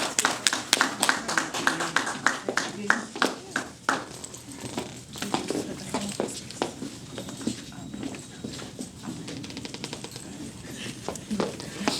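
A crowd at a community dialogue event claps to welcome a speaker. Crisp, close claps start in a strong rhythmic pattern and then loosen into scattered clapping, with voices mixed in.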